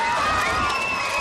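Crowds in Cambridge cheer and shout in greeting for the Queen and the Duke of Edinburgh, a dense burst of voices with high children's cries, brief and close.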